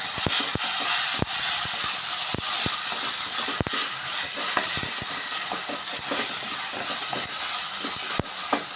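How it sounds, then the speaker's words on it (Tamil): Chana masala ingredients with ginger garlic paste sautéing in a pan, a steady broad sizzling hiss with scattered sharp clicks and taps from stirring, close and fairly loud, no voices. "இது எல்லாத்தையும் போட்டு வதக்கிக்கலாம்"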